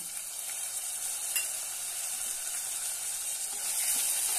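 Chopped tomato sautéing with ginger-garlic paste in a hot pan gives a steady, bright sizzle and hiss that holds evenly throughout, close and moderately loud, with no talking.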